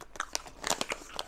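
A crunchy German snack coated in chocolate being bitten and chewed up close, a quick run of sharp crisp crunches and crackles with brief gaps between bites.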